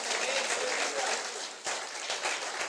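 A church congregation claps together in dense, steady applause that fills the room, dipping briefly midway before picking back up.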